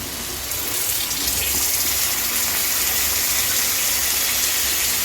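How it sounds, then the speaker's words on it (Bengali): Water poured from a bowl into a pan of spiced curry being cooked down, a steady close gushing splash that runs without pause for several seconds, with no talking. "বাটিটা দিয়ে আমি একটু জলও দিয়ে দিলাম"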